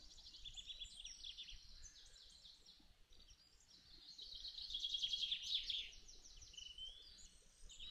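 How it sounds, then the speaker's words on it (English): Birds in the survival game 7 Days to Die chirp and trill in overlapping high calls, faint and somewhat distant, with a brief busier burst of song midway and no talking. "I hear birds."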